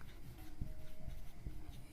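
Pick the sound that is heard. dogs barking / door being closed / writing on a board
writing on a board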